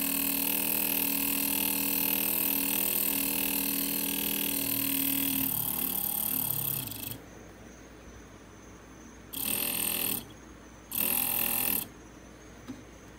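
A homemade DC oscillator with coils runs with a steady dense hum and whine, then drops in pitch and level as its field changes order, leaving quieter rumble broken by two short loud bursts.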